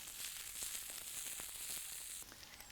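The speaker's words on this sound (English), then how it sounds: "shallots go in, and you hear that." Shallots sizzle in a hot frying pan, a faint steady hiss with small crackles and pops throughout.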